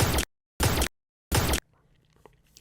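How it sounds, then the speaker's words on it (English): Three Vestian Dynasty shots from Destiny 2, each a short, sharp, loud burst separated by silence at an uneven rhythm, followed by a faint low tail. "here is what Vestian Dynasty, the gun that Petra Venj used, sounds like"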